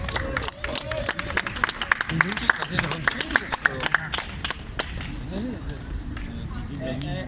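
Scattered, sharp claps from a crowd outdoors in the cold at a Matonge gathering, irregular and fairly close, thinning toward the end with chatter underneath.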